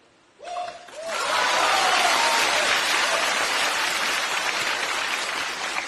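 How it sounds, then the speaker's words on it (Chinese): A theatre audience bursts into loud, sustained applause after a short lead-in, the clapping swelling quickly and holding steady to the end with faint crowd murmur underneath. "虽然他们在鼓掌"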